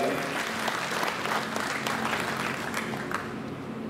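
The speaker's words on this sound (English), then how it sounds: "a big clap for all of them" An audience at a national education conference applauds its teachers, a steady dense round of clapping held at an even level throughout.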